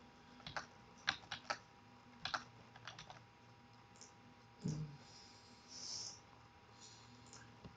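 Quiet, close clicking of a computer keyboard as an expression is typed into Wolfram, in short bursts of keystrokes with pauses between them and a few louder taps.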